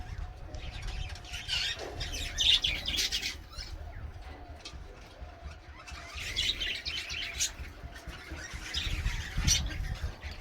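Birds in rooftop clay pot nests chirping and squawking in busy bursts, with occasional wing flaps and a low background hum.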